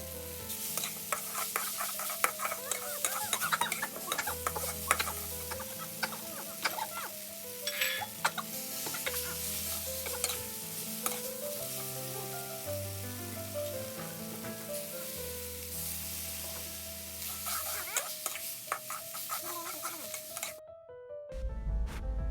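Glass noodles stir-fried with cha-om and water mimosa in a hot pan, continuous sizzling with repeated scraping and clinking of a spatula, close up, over steady background music and no talk.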